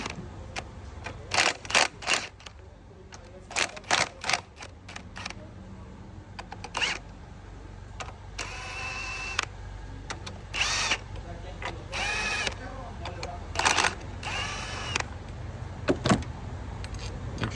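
An impact wrench removes 16mm valve cover bolts on a 2014 Nissan Altima 2.5, with short sharp rattling bursts repeating in quick clusters, then longer buzzing runs, close by against a quiet garage background.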